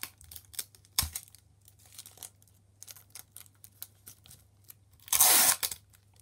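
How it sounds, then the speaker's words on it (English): Tape torn off a roll and pressed onto a handmade paper squishy; soft crinkles and ticks scattered throughout, then a loud, sustained ripping tear near the end, close and with no voices. "then you just need to tape it everywhere"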